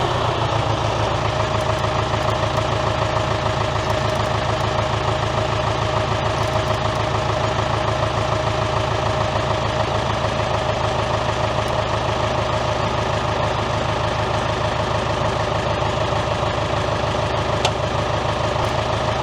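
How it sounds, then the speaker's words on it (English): A David Brown tractor engine idles steadily nearby, a loud, even low-pitched throb with a fast regular pulse that holds unchanged throughout, with no voices. "I hear the engine bogging down a little bit."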